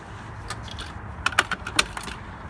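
A set of keys for a Bobcat E20 mini excavator jangles in several quick metallic clinks clustered near the middle of the moment, close and fairly clear over low background rumble, with no voices.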